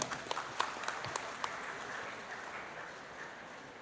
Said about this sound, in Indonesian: Mari kita muliakan Tuhan, kita tepuk tangan.